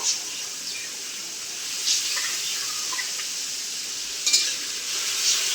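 Ground spices with asafoetida and ginger paste frying in a pan for a vegetarian mutton-style curry, a steady bright sizzle with occasional scraping stirs and small clatters, close and alone.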